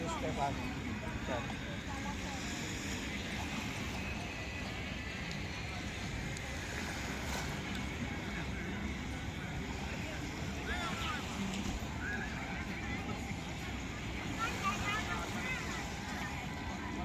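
Strong waves at high tide roll in by the sea with a constant low wash and rumble, wind buffeting the microphone, while a person talks faintly over the surf.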